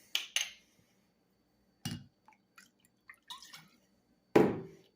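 Vodka is poured into a glass of beef-based fizzy drink, giving a few sparse, close splashes and light glass clinks separated by quiet gaps, ending in a louder pour.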